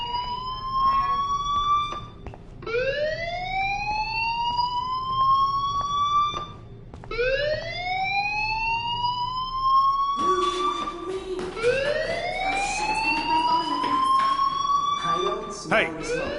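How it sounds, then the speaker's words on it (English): A fire alarm blares in the Life Is Strange video game. Loud, repeated rising electronic wails keep cycling for the whole stretch and stack up denser toward the end. "Hey, do you hear that fire alarm?"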